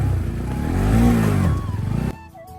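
Motorcycle ridden over the broken, slippery Saksi road in Mustang, its close engine droning and rising in a rev, then dropping away abruptly near the end into quieter clatter.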